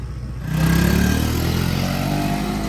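A small motorcycle engine in Indonesia starts up and drones steadily nearby, revving slightly as it rides along.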